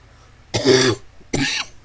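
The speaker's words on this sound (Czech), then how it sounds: "Kašel vás asi děsí" A person coughs twice, two harsh close bursts about three-quarters of a second apart, over a quiet low background hum.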